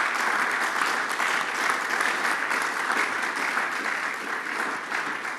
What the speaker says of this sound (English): A round of applause for our panelists today.